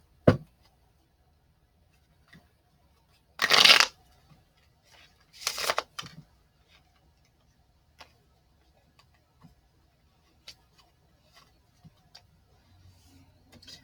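Oracle cards being shuffled on a table: two short bursts of riffling cards in a quiet room, separated by a couple of seconds, followed by faint sparse ticks and taps.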